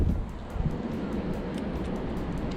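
Wind gusting across a lakeside park at Walsingham Park in Seminole, Florida, a rough, continuous rumble buffeting the microphone, strongest at the start, with no talking.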